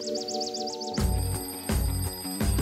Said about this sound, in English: There's ringing in my drawer.